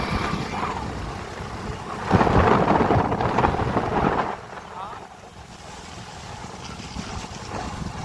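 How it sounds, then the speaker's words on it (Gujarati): Heavy rain pours over waterlogged village fields near Rajkot as thunder rolls in a loud swell midway, then eases back into a steady downpour with voices faintly present. "ફરીથી પાછો આજે વરસાદ આવીને"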